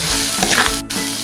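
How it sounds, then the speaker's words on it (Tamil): Turmeric and asafoetida frying in a pan while being stirred for a Tamil thuthuvalai rasam, a steady close sizzle with scraping stir noises running through. "இது கொஞ்சம் நல்லா பொரியட்டும்."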